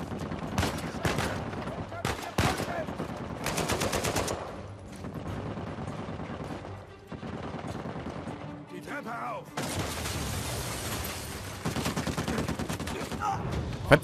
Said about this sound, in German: Wieso schießt er so schnell, dass ich nicht reagieren kann?